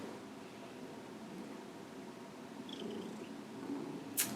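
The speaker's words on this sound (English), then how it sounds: "he's just gonna be purring for the rest of the video." A pet cat purrs loudly and steadily close by, a continuous low rumbling drone that runs throughout, with a brief sharp click near the end.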